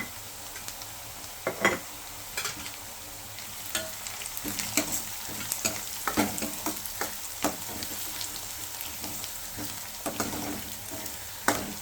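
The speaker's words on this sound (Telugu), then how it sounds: "ఆనియన్ లైట్గా ఫ్రై అవ్వాలండి." Onions, green chillies and turmeric frying in oil, a soft continuous sizzle broken by frequent scraping stirs of a spatula against the pan, close and alone without talking.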